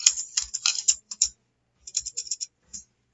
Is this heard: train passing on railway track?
no